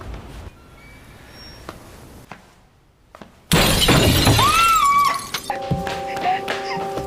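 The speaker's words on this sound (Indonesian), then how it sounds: "kaca jendela kamar mereka pun pecah" A bedroom window shatters with a sudden loud crash after a quiet lead-in. Tinkling debris and a descending wail follow, along with a sustained tone.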